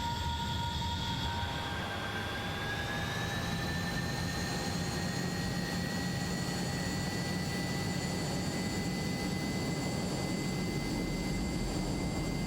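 Hawker Hunter jet engine in Microsoft Flight Simulator spooling up to full throttle, a rising whine that settles into a loud, steady high-pitched scream over a constant rumbling roar.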